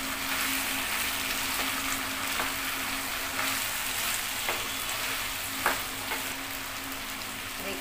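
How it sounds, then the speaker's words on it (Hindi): Cluster beans and potatoes frying in a pan with spice paste, a steady soft sizzle with occasional light clicks of stirring, close and without talk. "अब हम अपनी गवार की फली डाल देंगे और आलू डाल देंगे"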